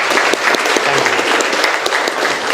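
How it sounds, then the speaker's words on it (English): An audience at a leadership training session applauds: loud, dense clapping from many people close by, sustained evenly for a few seconds. "Give him a clap."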